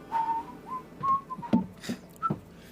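A person whistles to imitate a dull whistle, giving several short, soft whistled notes with gaps between them and no talking.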